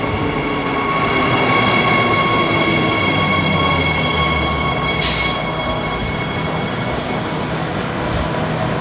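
A Transperth 3-car B series train rumbles steadily and loudly nearby, with wheel and rail noise throughout and a brief sharp hiss or squeal partway through.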